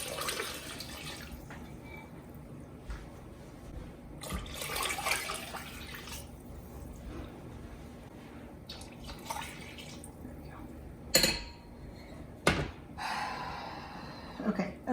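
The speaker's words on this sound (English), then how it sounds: "Now I'm gonna add the water." Tap water running into a 4-quart cooking pot, a faint splashing trickle with intermittent drips and a few sharp clanks of metal, heard fairly quietly in a kitchen.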